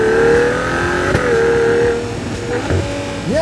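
A high-pitched 2026 Ferrari 12Cilindri V12 engine screams close by, its tone holding steady and then dropping and climbing again as it shifts up through the gears.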